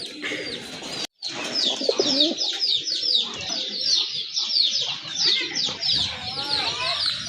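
A large pair of desi pigeons, tiger-coloured, coo and call steadily up close, with dense busy birdsong and occasional clucking fowl around them throughout; a brief dropout near the start.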